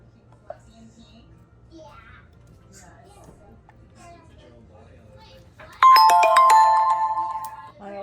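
A mobile phone ringtone breaks out loudly near the end in a kitchen while soup is being cooked, a bright repeating melody following quiet background noise and faint speech.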